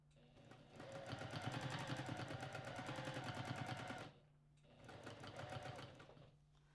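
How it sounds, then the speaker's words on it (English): A domestic sewing machine stitches during free motion quilting, a fast rhythmic needle chatter in two bursts, a long run then a brief pause and a shorter run, close and fairly quiet. "and then you can go ahead and start stitching"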